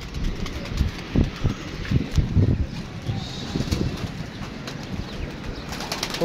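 Pigeons caught in a net flutter and scuffle close by in irregular bursts of soft thuds and wing flaps, with occasional faint coos and a voice talking intermittently.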